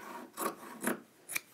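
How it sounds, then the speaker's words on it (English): Scissors snipping through denim fabric and wadding while a bag is made at a sewing table: three short, close rasping cuts spaced about half a second apart, with no talking. "so we'll use scissors."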